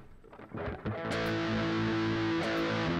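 A heavily distorted electric guitar rings out with a few picked notes, then a sustained, buzzing chord.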